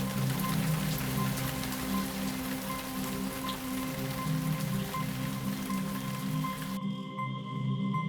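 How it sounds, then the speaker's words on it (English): Rain pours steadily onto mangrove leaves, a dense continuous patter of drops close by, cutting off abruptly near the end. "Rain pouring on the leaves finishes off the cleaning process."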